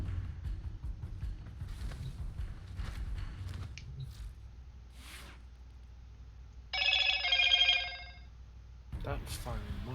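A phone notification rings in a clear burst of bright repeating tones, standing out for a couple of seconds between stretches of background room noise and faint talk.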